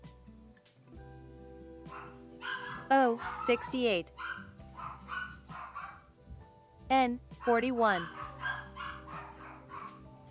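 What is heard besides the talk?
puppies barking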